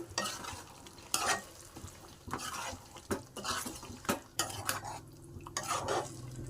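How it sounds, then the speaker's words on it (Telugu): Onion and tomato paste being stirred in a cooking pot for Nellore-style mutton and okra pulusu, with close, irregular scraping and clanking strokes of a spoon against the pot over a low simmer, no voices. "ఇప్పుడు అది వేసుకుందాం ఒకసారి బాగా కలుపుకుందాం"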